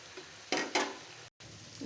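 Broth poured into a pan of chickpea curry with mashed potato: two short bursts of splashing sizzle, then a brief gap and a quiet simmering hiss.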